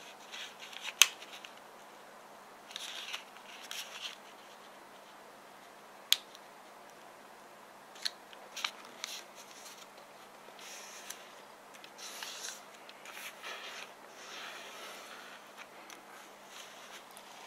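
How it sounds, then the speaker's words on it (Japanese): Origami paper being folded toward the center and creased makes quiet, sparse crinkles and sharp little snaps, occasional soft rustles spread across a faint, still background. "逆側も同じように中心に向かって折り紙を折り返して折り目をつけていきます。"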